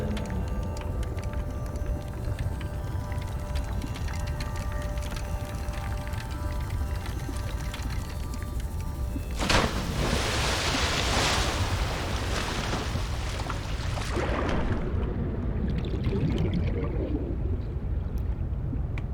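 Water splashing and rushing as a player character plunges back into the sea in Subnautica Below Zero, a burst of broadband splash rising over steady wind and surf ambience, then settling into muffled underwater hiss.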